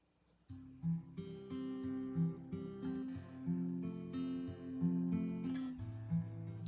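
Acoustic guitar strumming a sequence of chords from a song leading into the bridge, with steady rhythm, each chord ringing into the next, played solo and close.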